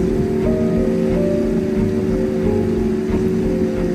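A motorboat speeds along the winding Mamberamo river in Papua, a loud continuous engine drone with rushing water and spray close by, no voices.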